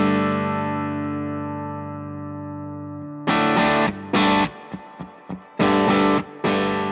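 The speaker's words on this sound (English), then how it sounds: "those are some really cool overdriven rhythm tones" Electric guitar through a bridge humbucker pickup on a pedalboard: a long sustained chord rings out and slowly decays, then overdriven rhythm chords come in short, loud chugging bursts with brief choked gaps between them.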